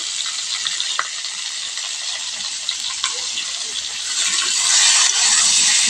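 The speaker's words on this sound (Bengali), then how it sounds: "নাড়িয়ে নেব" Cumin, turmeric and salt fry in a pan while being stirred, making a loud bright sizzle with a few sharp clinks of the utensil; the hiss swells louder toward the end, with no voices.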